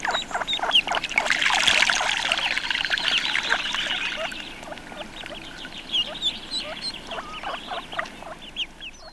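Ducks calling at a reservoir near London, with many soft whistles and quacking notes from a flock, busiest and loudest early on, then thinning to scattered calls, no talk.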